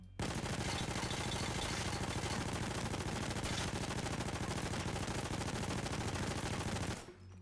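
Sustained full-automatic gunfire from a weapon in PAYDAY 2, a rapid unbroken stream of loud shots lasting about seven seconds before stopping abruptly.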